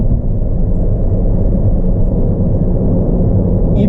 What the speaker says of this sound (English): you can hear a lot of the outside noise.